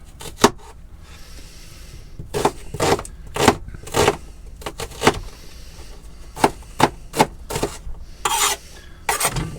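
A kitchen knife chops through an onion on a cutting board, with sharp, irregular knocks and scraping strokes repeating across the clip, fairly close and clear with no talking.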